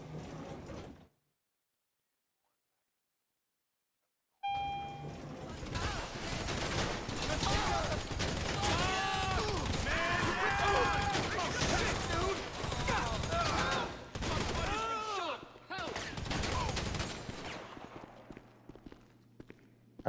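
Sustained automatic gunfire from GTA V Online as one magazine is emptied clearing out a basement, a dense, loud stretch of rapid shots with a few brief gaps, after a short silence.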